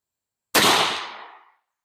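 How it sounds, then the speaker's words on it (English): One loud, close gunshot from a CVA Scout rifle in 350 Legend, a straight-wall hunting cartridge, fired at a range, with a sharp onset and a long reverberant tail fading over about a second; no voices. "I'm going to take all these shots in a row so I don't have to break up the footage downrange"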